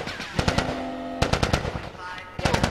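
Gunfire in the video game The Last of Us Part II: several rapid bursts of automatic shots in quick clusters, loud and close, with a voice briefly heard among them.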